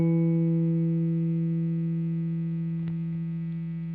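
A single sustained note on a Fender Jazzmaster electric guitar, its pitch and volume wavering slightly from a slow tremolo caused by the pickup magnets, slowly decaying with faint string ticks toward the end.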